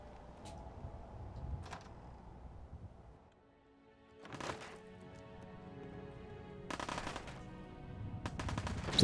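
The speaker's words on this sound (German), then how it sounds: "hier wird erstmal gleich geschossen auf uns" Gunfire in the video game Fallout 4, with bursts of automatic weapon shots and single cracks scattered across the clip, loud against a game ambience that drops briefly to near silence midway.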